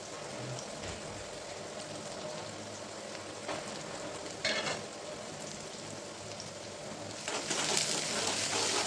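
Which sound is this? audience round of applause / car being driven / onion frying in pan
onion frying in pan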